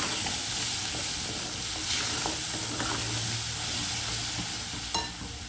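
Tomato puree goes into a sizzling onion-garlic masala with chili, salt, turmeric and garam masala for dum aloo, giving a steady close frying hiss with light stirring and one sharp utensil clink near the end.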